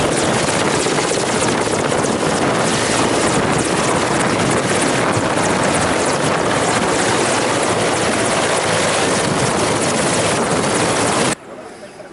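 The helicopter carrying the President of India lands at a helipad near Pamba for a Sabarimala visit, its loud, dense rotor and engine roar steady and close for about eleven seconds before cutting off abruptly.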